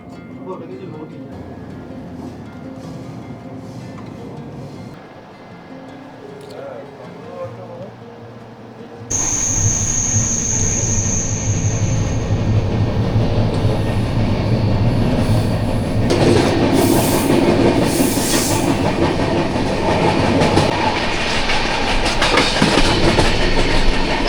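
A Vistadome coach train running from Araku to Jagdalpur, a steady rumble with wheel clatter that swells louder midway, a faint squeal briefly rising, heard from inside the carriage with people talking.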